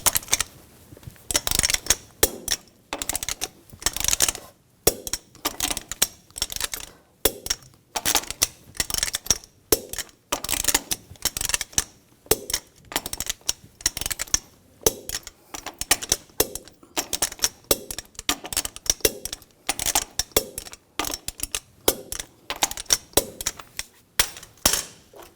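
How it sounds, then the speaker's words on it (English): Torque wrench tightening the lug nuts on a 2006-2010 Hummer H3 3.7L wheel to 103 foot-pounds in a cross pattern: rapid, close, sharp ratcheting clicks in repeated bursts with short pauses, and no talking. "Now we're going to torque the lug nuts to 103 foot-pounds in a cross pattern to tighten the wheel down evenly."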